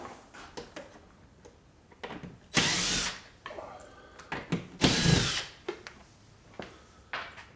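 A power drill backs screws out in two loud whirring bursts of about half a second each, mixed with close ticks and clicks from handling.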